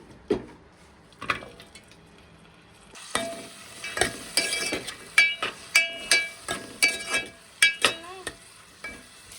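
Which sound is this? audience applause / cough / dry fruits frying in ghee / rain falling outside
dry fruits frying in ghee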